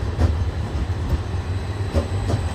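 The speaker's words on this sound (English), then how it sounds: "There's a tram going past," A tram rolls past on an Edinburgh street, a steady low rumble with faint rail clatter that holds evenly throughout, with no voices.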